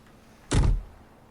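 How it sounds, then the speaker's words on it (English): A locked door is unlocked and pushed open in a castle guard room, heard as a single short, solid clunk against a quiet background. "May I unlock it and enter?"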